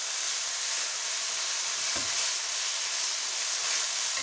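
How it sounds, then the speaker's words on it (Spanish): Spinach and mushrooms with paprika sauté in a hot pan, giving a steady bright sizzle and hiss with one soft stir or clack midway. "Lo rehogamos."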